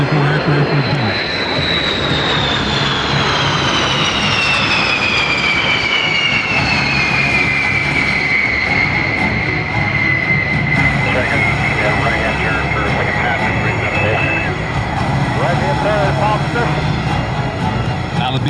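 B-52 Stratofortress bomber flying past at an air show, a loud continuous jet engine roar with a falling whine as it passes, under an announcer's commentary.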